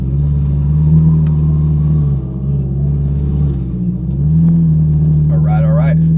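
Ferrari 458 Italia engine on the Las Vegas raceway track, a loud, steady low drone that swells and dips as it pulls away, with someone talking over it throughout.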